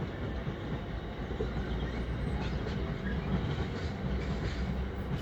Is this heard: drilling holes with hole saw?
no